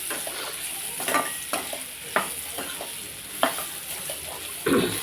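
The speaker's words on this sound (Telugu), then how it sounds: "ఒకసారి మళ్ళీ కలుపుకుందాం అస్తమానం కలుపుకోవాలి సిమ్లో పెట్టి" Carrot and garlic mixture is stirred in a pan over a low flame, with soft scraping strokes repeating at an irregular pace over a faint, steady sizzle.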